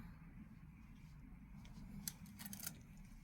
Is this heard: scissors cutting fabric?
yes